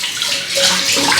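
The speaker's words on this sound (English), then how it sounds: "run some water over the Razorine just to rinse it out" Tap water runs steadily over a Razorine straight razor being rinsed during a wet shave, a close, loud hissing splash that swells slightly midway.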